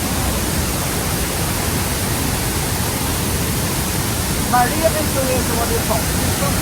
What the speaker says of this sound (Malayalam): കണ്ടോ വെള്ളച്ചാട്ടത്തിൻ്റെ പേര് മരിയാൻ തെരസ ടു സിസ്റ്റേഴ്സ് എന്നാണ് വിളിക്കുന്നത്